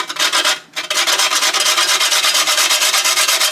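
Nutmeg scraped against a hand grater over flour for a beef soup, a steady rapid rasping of close, loud strokes with one brief pause near the start.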